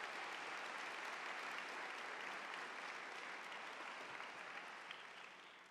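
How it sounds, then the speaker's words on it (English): Sustained, dense applause from a large audience at a Cal Poly fall university convocation, steady and loud throughout before slowly thinning toward the end, with no speech over it. "Let's give them a big round of applause."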